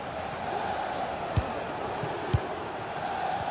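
A football video game stadium crowd gives off a distant, steady roar of cheering. Two soft thumps cut through it, and the noise stays even and unbroken throughout.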